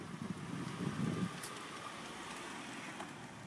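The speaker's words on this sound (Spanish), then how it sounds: "lluvia." Steady rain falls throughout, a soft even hiss with a low rumble that is heavier at the start and then settles into a constant wash with no voices.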